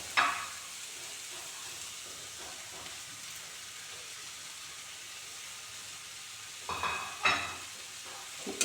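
Chopped ginger, green chili, coriander and curry leaves are stirred into softened onions frying in a pan, making a faint continuous sizzle with soft scraping and a couple of louder stirring strokes near the end.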